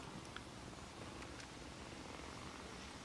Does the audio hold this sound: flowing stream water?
no